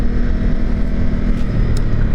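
A Ducati Multistrada V2S motorcycle accelerates as the rider opens the throttle, a loud steady engine roar with wind rush held close throughout, no talking.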